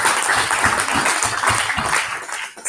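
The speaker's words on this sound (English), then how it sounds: "We didn't give the Vedika a clap." Conference audience applauding in a hall, a dense steady wash of many hands clapping at once, loud and sustained before tapering off at the end.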